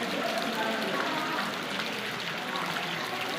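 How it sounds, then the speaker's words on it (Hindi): Steady rain pours down during a crowded Shiva darshan on the first Monday of holy Kartika Purnima, a dense, even hiss of drops on surfaces filling the whole stretch without pause. "ये वर्षा हो"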